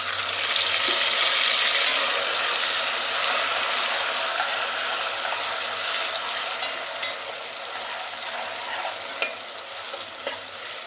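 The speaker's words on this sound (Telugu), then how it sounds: "ఇప్పుడు టమోటాలు పచ్చిమిర్చి కట్ చేసి పెట్టుకున్నాం కదా అవి వేస్తున్నాను" Chopped tomatoes and green chillies sizzling and frying in hot oil in a pan for chicken dum biryani, a steady hiss throughout with a few sharp spatters and crackles toward the end.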